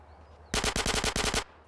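Rapid automatic gunfire from a modded GTA San Andreas game, a single loud burst of about eight close shots lasting under a second, with quiet game ambience before and after.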